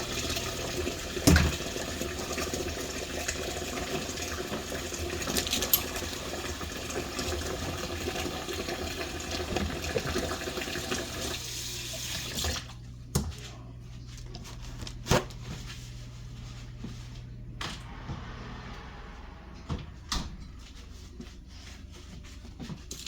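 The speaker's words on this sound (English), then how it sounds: "Wash my hands again." Running tap water splashes steadily as hands are washed in a kitchen during candy making, a fairly close continuous rush that stops about halfway, followed by quieter knocks and handling sounds.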